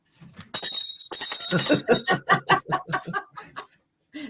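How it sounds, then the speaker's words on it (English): A small handheld bell rings in a bright burst of rapid trills near the start, followed by lively voices and chatter that fill the rest of the moment. "Do you want me to ring my bell?"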